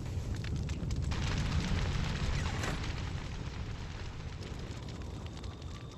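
Fire started by a thrown firefly jar in Fortnite, a dense, rumbling roar of flames with a booming burst quality, loud and continuous and slowly easing off.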